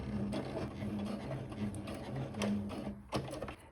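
A sewing machine stitches lace onto jersey tunic fabric, running in short bursts of fast mechanical chatter with brief pauses between runs, close and clear with no talking.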